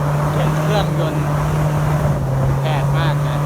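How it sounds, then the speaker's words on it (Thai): Speedboat engine running on the way by water to a temple, a steady loud drone with a constant low hum, wind buffeting the microphone and a voice faintly present. "เสียงเครื่องยนต์"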